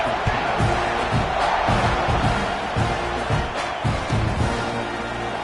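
Football stadium crowd roaring and cheering during a college game against Texas A&M as the kickoff unit lines up, a loud, sustained wash of massed voices with no break.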